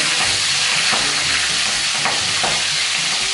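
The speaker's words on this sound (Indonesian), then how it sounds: "Kita tumis semua bumbu yang kita iris" Sliced spice paste sautés in a hot pan for a Sumba-style patola vegetable dish, with a loud, constant sizzle and frying crackle broken by occasional scrapes of stirring, and no voices.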